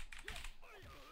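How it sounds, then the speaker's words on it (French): Mechanical computer keyboard keys pressed in a quick cluster of clicky taps, close and fairly quiet, in a leverless fighting-game stick setup, with no voice over them. "C'est un clavier mécanique que j'ai."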